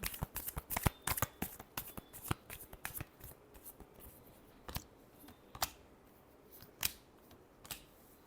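Tarot cards shuffled by hand: a rapid burst of crisp riffling snaps in the first three seconds, then sparser single card flicks and taps, close and fairly quiet with no talking.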